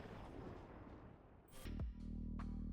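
A video game explosion in MTG Arena bursts in abruptly after a noisy buildup, then settles into a loud, sustained low rumble that carries to the end.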